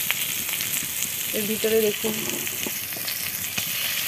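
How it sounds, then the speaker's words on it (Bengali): Boiled young jackfruit fries in a pan for a prawn dish, a steady close sizzle with a brief spoken line over it. "এ অবধি ভাজা হয়েছে দেখুন, ভাজা হয়ে গেছে প্রায়"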